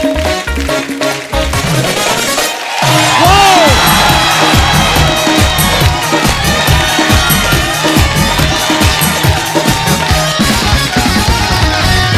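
A studio audience at a comedy talk show cheers and applauds loudly, a dense roar of claps, whoops and shouts that swells after a brief quieter start and stays strong throughout.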